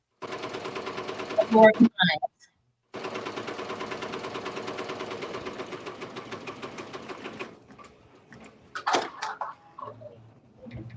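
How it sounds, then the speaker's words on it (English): A Ricoma Marquee 2001 embroidery machine runs a placement stitch for appliqué, a steady rapid mechanical stitching rhythm in two long bursts separated by a brief pause, with a few words of speech and small handling noises after it stops. "So this is what's called the placement stitch."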